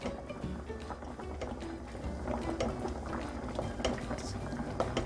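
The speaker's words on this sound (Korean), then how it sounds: "가끔 또 양념이 골고루 배어서 맛있게 졸여줄수 있도록 이렇게 끼얹어 주면 돼요" Spicy sauce bubbling around braised dried pollock and radish, with a ladle spooning the liquid over the top, giving a close, continuous simmering burble and soft wet splashes.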